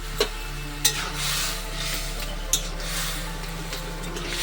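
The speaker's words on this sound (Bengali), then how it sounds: "এবার আমি কিন্তু এই তরকারিটা 10 মিনিট ফোটাবো।" A vegetable curry with crab and snake gourd bubbles and sizzles gently in an oiled pan, a soft continuous simmer broken by a few sharp clicks of a utensil against the pan.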